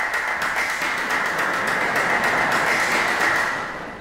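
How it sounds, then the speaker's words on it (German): Sampled Spanish applause played back during a live comedy show, a dense wash of clapping heard alone, steady and loud before easing off at the end. "Spanisches Applaus."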